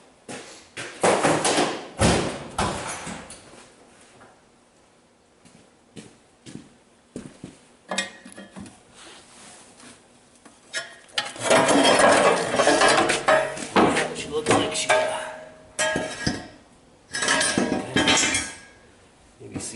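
Metal wedges on a seized Edge QA2 hydraulic power tach plate of a Bobcat 763 being pried with a pry bar: irregular bursts of clanking, scraping metal and ratcheting clicks, loudest in a sustained stretch midway, with gaps between efforts.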